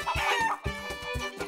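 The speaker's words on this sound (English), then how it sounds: "Calc and I will just go and get one of the chickens to sit on Egna." Cartoon chicken clucking and crowing in a repeated, rhythmic pattern of short squawking bursts, loud and close, with no talk over it.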